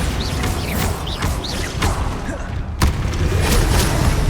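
Bombarda spell explosions in Hogwarts Legacy on PS5, deep booming blasts over a loud rumbling combat bed with whooshing casts and one sharp crack partway through.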